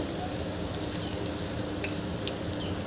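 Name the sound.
batata vada frying in oil in a pan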